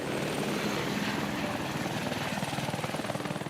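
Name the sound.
water bomber helicopter flying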